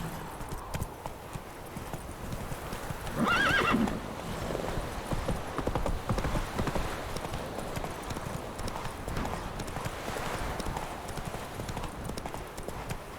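Horse hooves clip-clopping in The Witcher 3 video game, a steady rhythmic trot with a brief whinny near the start.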